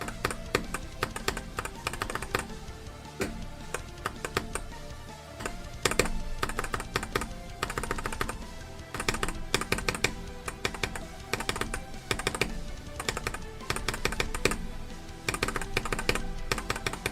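Fast, continuous clacking of a computer keyboard during a gaming stream, with dense key strikes and brief pauses now and then, close and clear with no talking.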